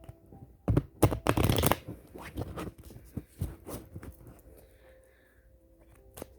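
Tarot cards being shuffled by hand, close and crisp: a few rapid riffling bursts early on, then softer scattered slides and taps that fade toward quiet.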